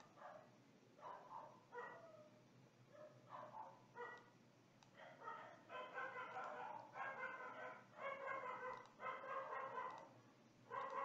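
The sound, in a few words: neighbour's dogs barking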